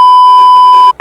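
Notification bell sound effect: a loud, steady pure bell-like tone sustained for nearly a second with bright overtones, then cut off by a brief second ping, nothing else behind it.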